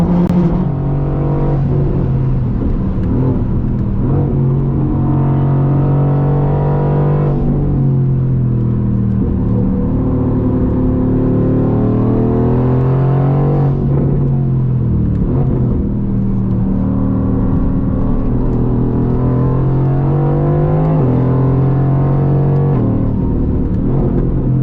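A 760 hp Renntech-tuned Mercedes-AMG GT R Pro with non-factory exhaust drones loud and steady on the Nürburgring, engine note rising and falling through gear changes and throttle at part load, no talking over it.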